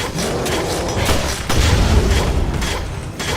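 A heavy, sustained rumbling grenade explosion in the video game Resident Evil: Revelations fills the clip, dense and loud, swelling midway before slowly easing, like a blast echoing nearby.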